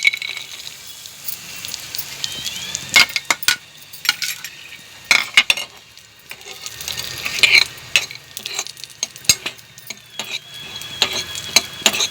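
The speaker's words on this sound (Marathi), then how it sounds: "आता आपण त्याचकडे थोडे तूप घालून काजू बदाम परतून घेऊ" Cashews and almonds frying in ghee in a pan while making rice and khoa kheer, soft sizzling under repeated sharp scrapes and clinks of a spoon stirring, close and intermittent.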